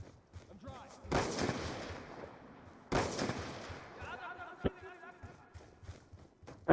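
Gunfire in the online shooter Black Ops 2 comes as two loud, sharp broadband bursts followed by scattered smaller shots, with players' voices talking over the game noise.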